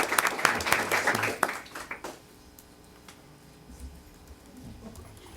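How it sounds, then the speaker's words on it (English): A room at a GCISD school board meeting bursts into applause for an honoree: dense clapping for about two seconds, then a few scattered claps trailing off into quiet room tone. "Another round of applause for for Emily Anderson"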